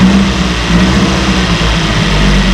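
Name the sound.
1968 Evinrude 18 hp Fastwin outboard motor running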